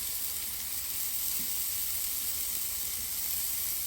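Burger patties and onions sizzle on a griddle, smashed flat, giving a steady, even frying hiss with no pauses.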